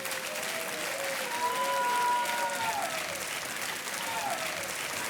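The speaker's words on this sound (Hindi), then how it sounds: "तालियां बजती रहनी चाहिए देवी और सज्जनों।" A studio audience on the quiz show KBC applauds steadily, a dense even patter of many hands held at moderate level throughout, with a faint musical tone sounding underneath.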